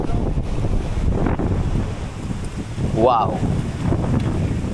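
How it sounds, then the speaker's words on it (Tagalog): Strong wind buffeting the microphone outdoors, a steady broadband roar through the whole stretch with a voice briefly exclaiming over it. "Wow, malakas ang hangin."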